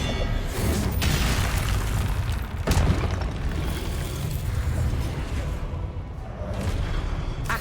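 Confringo fire spells in Hogwarts Legacy burst as repeated booming explosions over a dense, continuous roar of combat, with sharp blasts near the start and midway.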